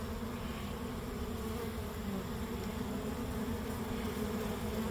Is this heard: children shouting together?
no